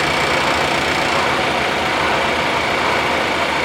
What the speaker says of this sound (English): Now it's time to start the engine. Start the engine, please.